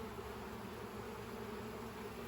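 Honey bees buzz inside a nuc-stack hive being set up as a cell builder, a steady, even hum of many wings, close and unbroken throughout with no voices.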